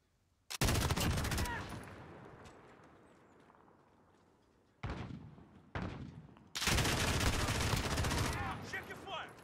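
Heavy automatic gunfire in a Call of Duty Modern Warfare multiplayer match on the Livestock map, loud sustained bursts separated by quieter gaps, with some footsteps mixed in.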